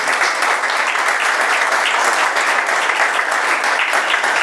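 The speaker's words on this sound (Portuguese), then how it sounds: "Dê um aplauso ao Senhor." A church congregation applauds steadily, a dense, loud and continuous wash of clapping from many hands that fills the whole stretch without pause.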